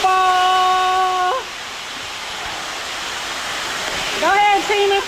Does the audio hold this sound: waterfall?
yes